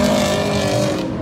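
Cars at Mikawa Motorland race past at close range, a loud engine roar with a slight tone shift as they go by, steady and dense across the whole moment.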